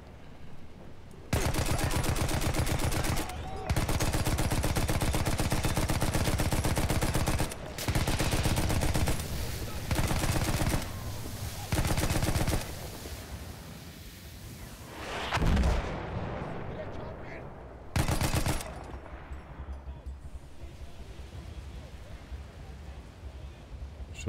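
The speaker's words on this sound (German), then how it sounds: "Schüsse von links." Battlefield 1 battle sounds: loud, dense bursts of gunfire and artillery fire in long sustained volleys, broken by short gaps, with a heavier blast near the middle and a faint voice underneath.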